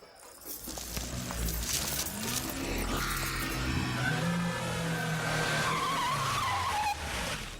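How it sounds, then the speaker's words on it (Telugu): A car races up at high speed and its tires skid loudly as it brakes. Engine roar and a long, sustained screech hold near and prominent across the whole stretch, in the style of a film scene. "మెరుపు వేగంతో కారు వచ్చాగింది"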